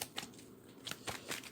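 Playing cards are shuffled for a board wargame, with a few quiet, crisp riffling bursts close by. No one speaks.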